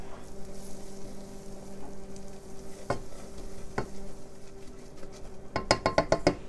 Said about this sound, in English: Our butter is melted, so we're going to add the flour to get going on our cheese sauce